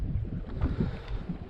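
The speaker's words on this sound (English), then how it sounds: "I hope this dang wind ain't too bad" Steady low wind rumble buffets the microphone outdoors at the water while crappie fishing on a hot summer day, a continuous blustery roar with no talking.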